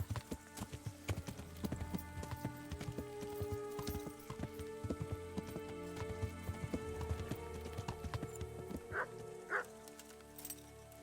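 Horse galloping in the Kingdom Come: Deliverance video game: a steady run of rhythmic hoof clip-clops, fairly close, over a layered ambient game backdrop with brief high call-like sounds near the end.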